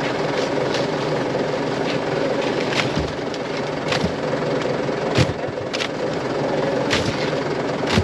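A tractor engine drones steadily while pulling through a sweet corn harvest, with intermittent wind buffeting and rattles over the constant rumble.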